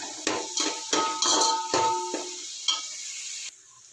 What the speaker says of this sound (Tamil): இந்த வெங்காயத்தோடு சேர்ந்து இஞ்சி பூண்டு பேஸ்ட்டும் வதங்கட்டும்.